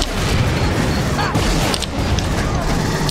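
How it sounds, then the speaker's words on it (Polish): Explosions and gunfire in the video game Aliens: Colonial Marines, a dense continuous roar of blasts and mechanical noise with deep low rumble throughout, loud and busy, with game voices mixed in. "Wybuchy."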